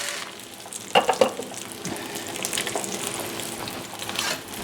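Eggs frying in a pan alongside a steak breakfast, giving a steady, soft sizzle with a few sharper crackles and spatters early on, with no talking.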